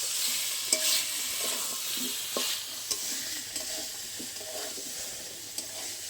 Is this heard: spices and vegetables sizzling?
yes